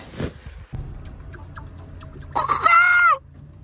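A chicken in a village on Paxos, Greece, gives a short cluck, then after a quiet stretch lets out a louder, drawn-out squawk nearby.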